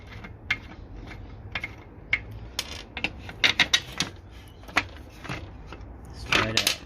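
Small bulbs being pulled from the tail light fitting of a Ford Escort Mk2 RS2000, giving quiet scattered clicks and plastic-and-metal taps, with a brief cluster of sharper clicks near the end, close up over faint background hum.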